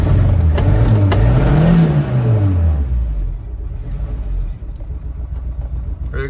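A Suzuki Samurai engine revs up and falls back, its pitch sweeping upward and down again before settling into a steady, slightly uneven idle rumble, close and loud.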